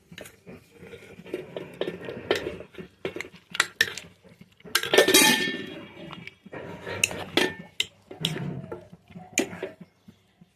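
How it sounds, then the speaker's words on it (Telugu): A ladle repeatedly clanks and scrapes inside a metal pot while bottle gourd curry is mashed, giving irregular close metallic knocks and stirring scrapes with brief pauses between strokes. "ఇప్పుడు మనం దీన్ని గరిటితోనే మెదుపుకుందాం"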